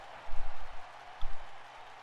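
Arena crowd in the WWE 2K19 wrestling video game cheering and clapping during a match: a continuous broad roar with a few swelling bursts, moderately loud and with no voice over it.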